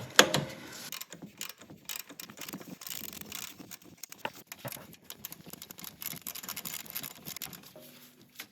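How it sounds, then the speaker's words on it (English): A swivel head ratchet clicks quickly and steadily as it loosens the adjusting bolt on the serpentine belt tensioner of a 2001–2008 Honda Fit (Jazz) 1.5L, close up, with a sharper clunk at the start. "The swivel head ratchet is really saving the day here today."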